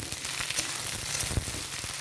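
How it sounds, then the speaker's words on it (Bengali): Vegetables fry in hot mustard oil while being stirred, giving a close, steady sizzle and crackle with scattered scraping knocks from the spatula, no voices. "ভালো করে নেড়ে নেব।"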